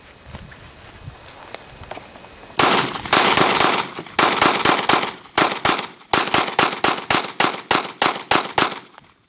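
A full magazine of 5.7 full metal jacket rounds fired from a rifle at watermelon targets outdoors, about twenty sharp, loud shots in an uneven rapid series after a few seconds of quiet background noise.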